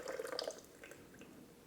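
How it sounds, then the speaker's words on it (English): Boiling water is poured over chiles in a bowl to steep them, giving a brief soft splashing and trickling that fades quickly into quiet. "I'm gonna take some boiling water and pour it over here to steep it."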